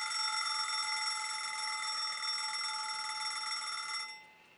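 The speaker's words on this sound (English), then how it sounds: "since this is a kitchen timer, you are treated to this lovely little jingle." A kitchen timer's time-up jingle rings out as a bright, continuous electronic chime, loud and steady for about four seconds before cutting off into silence.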